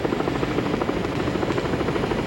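Inside a small experimental EZ airplane on a crosswind landing approach, the engine gives a steady, dense, close droning roar that fills the cabin without a break.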